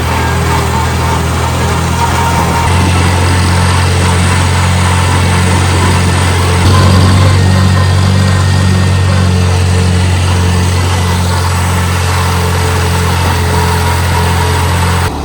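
Old tractor engine running steadily while raking hay in a field, a loud, close, continuous low drone with a slight shift in pitch partway through and no talking.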